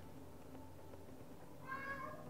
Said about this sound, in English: Every time he starts meowing like that